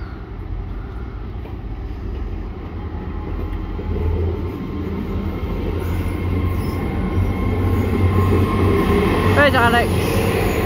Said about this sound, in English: So this is definitely the last train of the video.